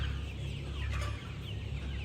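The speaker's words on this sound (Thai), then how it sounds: "ไก่นะคะ จะตัวไม่ใหญ่มาก" Khao Yai chickens cluck inside a dim poultry house, soft scattered clucks over a steady low hum, faint and close-ish, with no talking.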